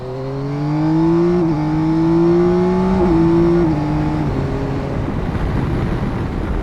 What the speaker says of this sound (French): Allez, on va faire une petite accélération.